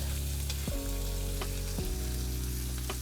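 A steak sizzles loudly in a hot pan while being basted, with steady frying hiss and a few sharp spoon or pan knocks.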